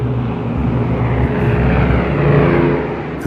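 Two planes bank away together after a bomb drop, their engines sounding as a loud, continuous droning roar that swells slightly and then eases, with no voices over it.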